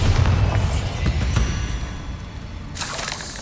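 An explosive spell blast in Hogwarts Legacy, a booming, crackling burst with debris-like shattering up front, fading, then a second sharp impact near the end; no speech.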